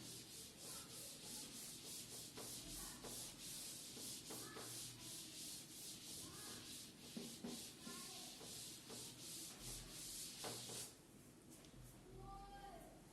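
Rubbing strokes wiping writing off a classroom board during a physics lesson, a steady scraping, sanding-like texture repeated through the whole stretch, close and fairly loud with a brief pause near the end.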